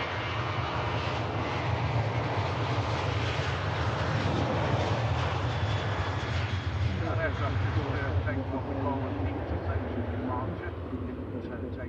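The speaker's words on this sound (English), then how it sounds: "Ryanair 737 next to go." A Ryanair Boeing 737 jet taking off at Manchester Airport, its engines a loud, sustained roar that slowly shifts and fades as it climbs away, heard without talk.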